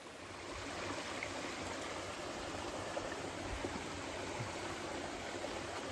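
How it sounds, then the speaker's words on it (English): A creek in New Mexico's Cooney Canyon flows steadily, a continuous broad rush of water with no breaks, fairly close and even in level throughout. "Another creek crossing."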